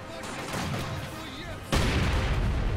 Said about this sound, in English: The mortar is just not connecting with its targets.